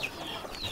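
In a hill village, a chicken gives brief, faint clucks over a quiet, airy background, with no talk.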